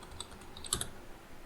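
A handful of keystrokes on a computer keyboard while a command is entered at a Red Hat Enterprise Linux prompt: brief, close clicks with one sharper cluster midway, and no speech.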